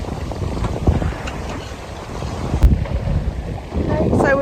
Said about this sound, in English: Wind's good, sailing well